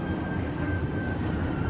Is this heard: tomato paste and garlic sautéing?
no